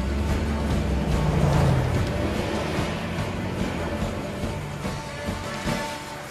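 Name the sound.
four-wheel-drive vehicle starting and driving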